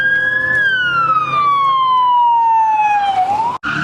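Loud nearby police car siren at a car meet, a single long wail falling slowly in pitch, then sharply cut off.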